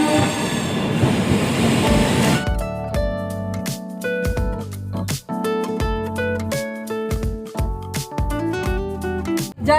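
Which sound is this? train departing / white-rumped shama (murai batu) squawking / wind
train departing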